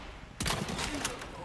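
Grenade explosion in Resident Evil 4 Remake, a sudden loud blast about a third of the way in followed by rumbling debris and a few sharp cracks, fairly close.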